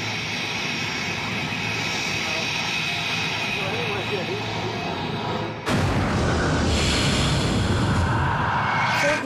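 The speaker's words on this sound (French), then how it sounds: "cet avion est bien dans l'eau, il a mis les gaz et semble vouloir décoller" Private jet sitting in water with its engines revving at full throttle, a steady loud roar that surges sharply louder partway through, with no speech.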